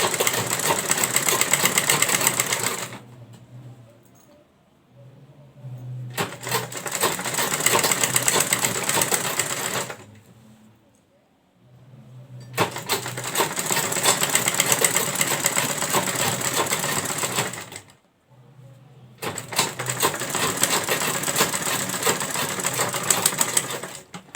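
A sewing machine stitches a throw pillow seam with a half-inch allowance, running in three long steady bursts separated by short quiet pauses, close and fairly loud with no talking.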